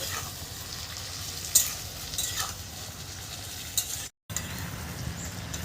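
Onion and green chili fry in fish oil with a soft, steady sizzle, a few faint spatula scrapes and taps over it, close but fairly quiet, with a brief cut to silence near the end.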